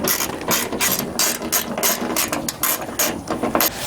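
A hand ratchet tightens T30 Torx bolts on a Ram truck tailgate during a recall repair, producing rapid, close, loud clicking in repeated bursts of strokes, with no talking.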